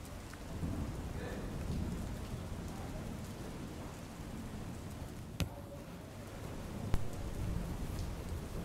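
Heavy rain pours over the flooded Ghed area near Keshod in Junagadh, Gujarat, a dense, steady roar of falling water with a couple of sharp cracks breaking through.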